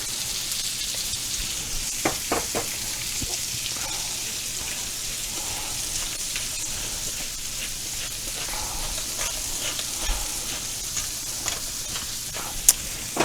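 Seasoned chicken for fricassee sizzles and fries in a pan, a constant close hiss with occasional small pops and a few clicks of stirring.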